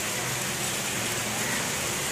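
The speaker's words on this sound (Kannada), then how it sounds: "ಮಳೆ ಬಂದಿದೆ ಇವತ್ತು" Rain falling steadily outdoors on a vlog day, a dense, even hiss of drops on surfaces with no break, heard alone for a couple of seconds.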